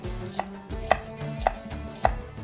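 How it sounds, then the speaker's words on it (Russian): A knife slices an ordinary yellow onion thinly on a cutting board, producing four crisp, evenly spaced chops close to the listener, with faint board scraping between strokes and no talk. "Я поленился, и у меня самый обычный репчатый лук,"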